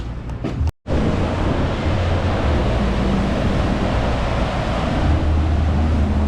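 Ocean surf rolls onto Canggu beach in Bali as a steady, close, full-bodied roar of breaking waves, broken only by a brief dropout near the start, with no voices.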